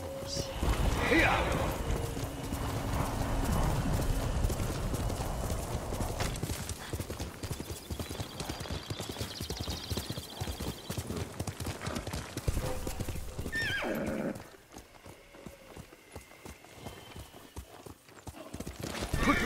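A horse in the Ghost of Tsushima video game whinnies, then its hooves clip-clop rhythmically at a gallop, loud at first and easing off, with a voice speaking over part of it.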